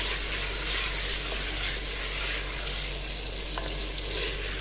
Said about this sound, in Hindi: चिकन की यहाँ पे इस मसालों के साथ अच्छे से बुनाई कर लेंगे जब तक कि इसका कलर ना चेंज हो जाए